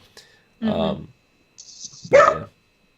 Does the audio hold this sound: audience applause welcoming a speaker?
no